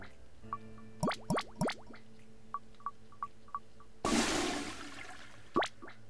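A toilet flushes in the prison game The Escapists, a short loud rush of water that fades out after a second, preceded by a run of small plopping item sounds and musical blips, with a final pop afterward.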